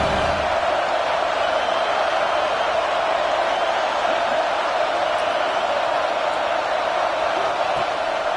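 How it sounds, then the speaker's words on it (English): Ohio State Buckeye football stadium crowd roaring steadily on a third-down play, a dense, continuous wall of cheering that stays loud throughout. "The Buckeye crowd alive on third down."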